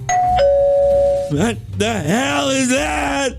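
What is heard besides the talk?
doorbell ringing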